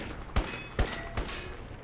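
Gunfire in the video game Crysis: three sharp shots at even intervals, each a hard crack with a short tail, heard over a steady low background hum.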